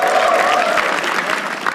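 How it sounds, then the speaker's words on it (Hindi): Audience applause at a Hindi stand-up comedy show as the next comedian is introduced, a loud dense burst of clapping from a packed room with a few cheers, fading slightly toward the end. "तालियां."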